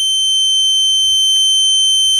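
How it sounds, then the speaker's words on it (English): A loud, continuous high-pitched warning buzzer from a TSM2500 electric vehicle charger with a J1772 plug, sounding because the key is left on, steady and unbroken, with a faint low hum beneath it. "If I plug this plug in and I leave the key on, we will get the buzzer going off"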